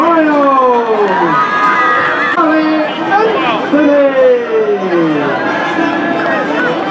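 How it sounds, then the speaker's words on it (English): A crowd at a senior night ceremony claps and cheers for a senior, with loud overlapping voices and shouts over ongoing applause, close and busy throughout. "A round of applause for Delaney Arroyo!"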